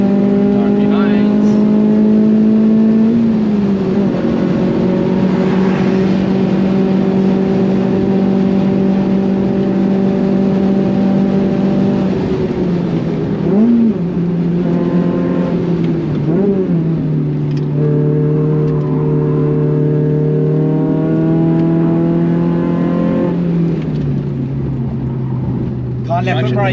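A track-modified 170hp VW Lupo GTI revs and pulls hard while driving, its loud engine note rising and dropping through gear changes for the whole stretch, with people talking over it inside the car.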